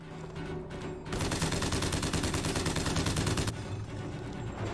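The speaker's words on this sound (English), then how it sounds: "Boa ideia da tiro de shotgun dessa distância, né?" Rapid bursts of gunfire in a BioShock Infinite fight, a dense stretch of repeated shots lasting a few seconds, then fading to lighter firing.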